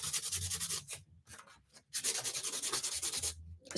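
Sandpaper rubs back and forth over a small wooden craft piece in quick rhythmic strokes, close and clear, pausing briefly twice before resuming.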